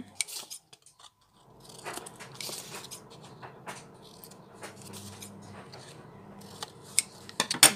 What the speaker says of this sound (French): Et donc ensuite je viens couper les angles.